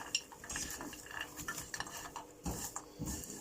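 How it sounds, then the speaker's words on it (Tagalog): Roasted almonds and walnuts stirred in a pan, with a utensil scraping and clinking against the metal in steady, close strokes and a few louder scrapes near the end, no voices. "haluin ko lang muna siya ng haluin para hindi masunog."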